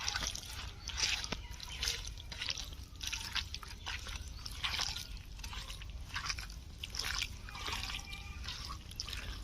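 Chicken pieces are squished and kneaded by hand with tomato, mustard oil and ginger-garlic paste, giving wet squelching, slapping and dripping sounds in an uneven, continuous rhythm at close range.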